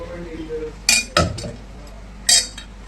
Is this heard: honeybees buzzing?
no